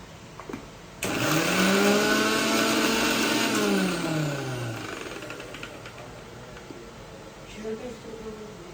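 A kitchen mixer grinds a paste of potato, garlic, chilli, onion and tomato, a loud whirring drone with a falling pitch that runs for about three seconds before easing into a quieter hum.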